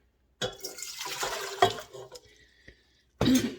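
Warm water pours into a mixing bowl for homemade pizza dough, a short splashing stream that trickles off and stops, then a brief second splash after a pause.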